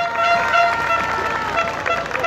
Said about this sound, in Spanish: Un aplauso para la señorita FESTICUN 2017.